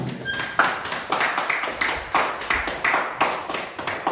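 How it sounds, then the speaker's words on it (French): Church congregation clapping in acclamation after a scripture reading, steady rhythmic claps about every third of a second, fairly close and loud throughout. "Acclamons pour la parole."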